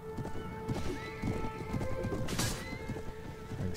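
Horses in the medieval battle game Mount and Blade Warband gallop with rapid, overlapping hoofbeats. A sharp whinny rises over the thudding, with a brief crashing hit in the middle of the charge.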